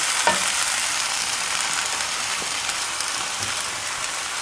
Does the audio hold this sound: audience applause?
no